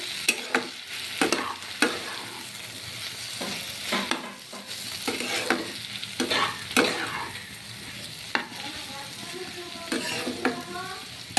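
Potatoes, pumpkin and ivy gourd fry in a pan while being stirred, a steady sizzle broken by repeated scraping strokes of a spatula, close and fairly loud with no talking.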